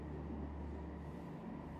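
A Paris train rolls steadily along its rails, a low, even rumble with a faint rattle, continuous and unchanging throughout, heard alone without any voices.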